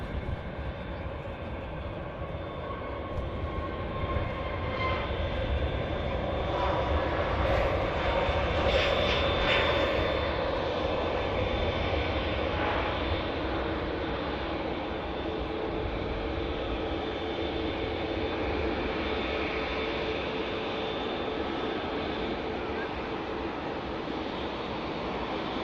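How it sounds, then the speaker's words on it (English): A Junyao Airlines Boeing 787 Dreamliner departing Manchester Airport makes a long, steady jet roar that swells and holds at a moderate distance, with no voices over it. "Beautiful Junyao Dreamliner heading out to Shanghai."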